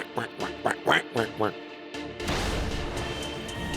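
A duck quacks about five times in quick succession, loud and close, followed by a sudden broadband crash or rumble.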